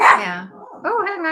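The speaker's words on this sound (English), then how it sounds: "So if you hear barking in the background," A stressed dog barks indoors, a short sharp yelp followed by a higher whining bark, close and loud, while a person speaks briefly over it.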